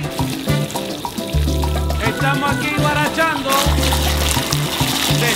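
Water gushing from an outdoor tap into a bucket, a continuous close splashing rush under music and people talking nearby.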